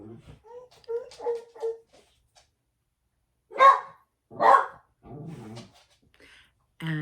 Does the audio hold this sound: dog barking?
yes